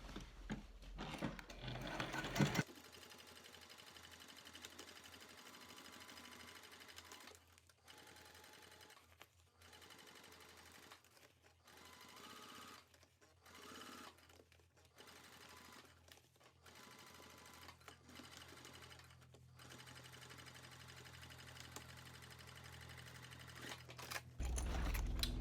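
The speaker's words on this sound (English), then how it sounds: "go within the seam allowance and do a second row stitching" A domestic sewing machine runs a second row of stitching along a seam on a mini backpack, buzzing steadily in long bursts broken by short pauses, close and alone with no talk.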